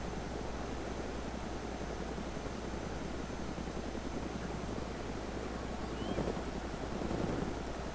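A helicopter in a video game spins after being shot, producing a steady, loud rotor and engine drone with hissing wind-like noise. It swells slightly near the end, and there is no talk.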